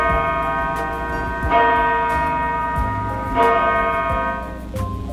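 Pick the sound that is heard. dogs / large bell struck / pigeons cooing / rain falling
large bell struck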